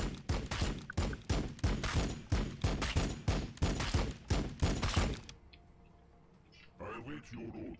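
Rapid, evenly spaced gunfire in the strategy game Warhammer 40k Battlesector, with about fifteen loud, punchy shots over five seconds that stop abruptly, followed by near-quiet and a faint voice.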